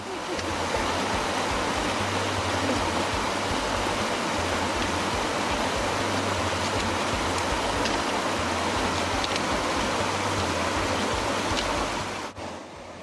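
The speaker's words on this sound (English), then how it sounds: "It is just raining continually." Steady, dense rain hisses down without a break over a rainforest walking track on Hinchinbrook Island in North Queensland, an even broadband wash close around the listener, with a faint low hum underneath.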